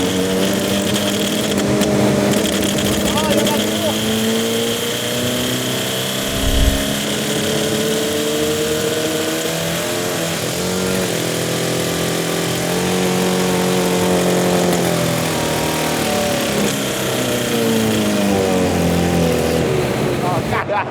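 A Citroën C15 fitted with a nitrous oxide kit sends out a loud, sustained engine roar that rises and falls through several revs while people talk over it.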